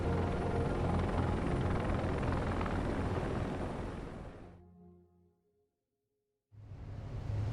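Evacuation helicopters shuttling from the embassy to aircraft carriers in the last days of Vietnam thrum loudly and continuously, then fade to silence before the rotor noise cuts back in.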